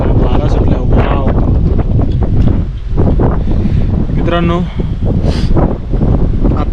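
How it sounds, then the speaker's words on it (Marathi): Strong gusting wind buffets the microphone at a Balumama temple visit in Admapur, a steady loud roar running throughout while someone speaks over it. "वारा सुटला."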